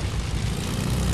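A propeller plane's engine drones loudly and steadily in the video game Fortnite, a continuous broadband roar with no talk over it.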